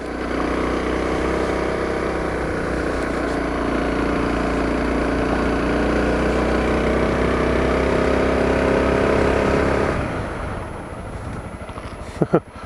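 Honda CRF 250L dual sport motorcycle riding uphill, a steady close engine drone with wind rush that holds for about ten seconds, then eases off and drops quieter near the end.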